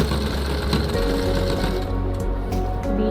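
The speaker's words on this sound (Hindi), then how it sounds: "तो हम आसन की सिलाई लगा रहे हैं।" A sewing machine runs continuously, stitching a seam on a garara, with a steady fast mechanical chatter up close and no talking.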